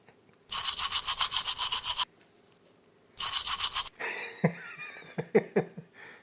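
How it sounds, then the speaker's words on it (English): A small plastic cleaning brush for a Waterdrop Flash countertop water filter is scrubbed in two close bursts of rapid rhythmic bristle rubbing, followed by clattering handling and light knocks of plastic parts. "It's got a little cleaning brush here."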